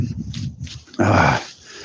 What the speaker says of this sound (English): There's one of my dogs, and there's the other dog in there, running around the forest.